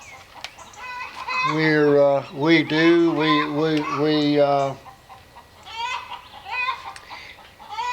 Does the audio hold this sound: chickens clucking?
yes